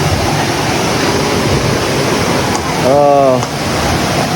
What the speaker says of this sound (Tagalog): Ito gar yung falls.